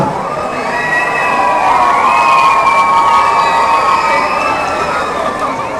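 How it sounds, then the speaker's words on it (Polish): Loud outdoor crowd at a strongman show by Mariusz Pudzianowski at a shopping arcade opening in Jelenia Góra, cheering and shouting with many children's voices, a continuous roar with sparse clapping and whistle-like shrieks. "No i wielkie brawa jeszcze raz za ten wielki pokaz siły."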